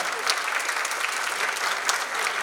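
Applause at a municipal ceremony where guests are called on stage for a flower presentation, a continuous dense clapping from a seated crowd, even and sustained throughout, with no voices over it.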